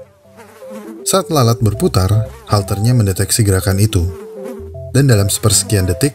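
A housefly buzzes steadily with a low, continuous wing drone beneath a narrator's voice that talks throughout.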